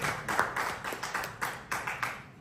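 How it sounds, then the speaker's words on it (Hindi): A seminar audience claps in a loose, rhythmic burst, with distinct hand claps spaced a little apart. It is moderately near and fairly quiet, with no talk over it. "जोरदार तालियां वीरेंद्र जी के लिए।"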